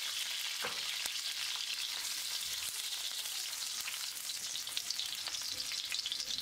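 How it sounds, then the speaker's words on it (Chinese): Ginger and garlic slices are stir-fried in oil in a wok, giving a continuous crackling sizzle with scattered pops and light scraping stirs, steady and close. "炒锅里留油，加入姜片和蒜片进行炒香。"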